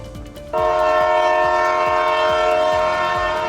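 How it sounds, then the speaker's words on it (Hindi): A train horn blasts loud and sustained at New Delhi railway station after half a second of rumbling, with rhythmic wheel clacks over rail joints running underneath throughout. "मैं आज नई दिल्ली रेलवे स्टेशन पे हूँ"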